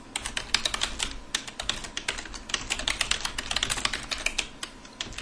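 Rapid, continuous typing on a computer keyboard while notes are written, dense close clicking keystrokes in a steady unbroken run.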